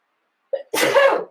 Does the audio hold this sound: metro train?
no